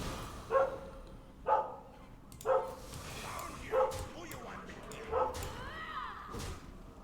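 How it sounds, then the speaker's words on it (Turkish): A dog barks five times at a steady pace, with the sharp yelps spaced about a second apart. They sound moderately distant and quiet over a constant background murmur. "Evet iğrenç köpek susabilecek misin?"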